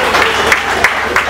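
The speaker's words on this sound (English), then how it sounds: "Oh, round of applause for me." A brief burst of audience applause at a comedy set during a book launch, with steady clapping and a few sharper hand-claps standing out.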